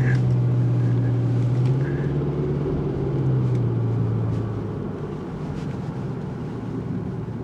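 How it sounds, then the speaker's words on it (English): Road traffic rumbles past as a steady, low, continuous drone that eases slightly in loudness toward the end, with no talk over it. "So much traffic we got."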